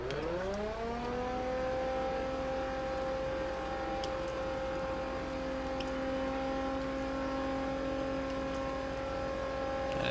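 A car in The Crew driven with a racing wheel, its engine note climbing quickly and then holding a steady high-revving whine at full throttle, loud and continuous with faint clicks on top.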